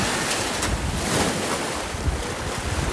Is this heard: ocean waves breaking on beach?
yes